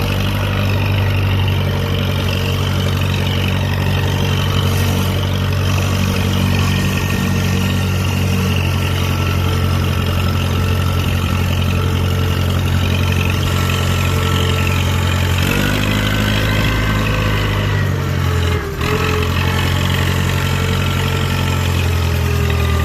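A Case 700 tractor engine runs steadily and loud up close, a constant low droning hum that shifts pitch briefly near the middle as gears change, with a faint squeak near the end.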